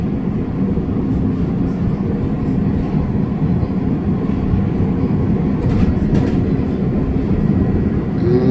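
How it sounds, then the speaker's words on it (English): A Chicago CTA Orange Line train bound for Midway rumbles steadily along the rails, a loud continuous low roar with faint wheel clatter and brief higher squeals near the end. "This is an orange line train to Midway."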